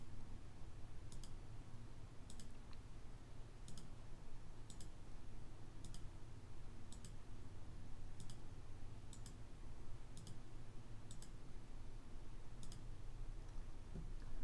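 Faint mouse clicks sound alone as texture frames are selected in Tomb Editor, about a dozen sharp, evenly spaced taps over a quiet, steady hum.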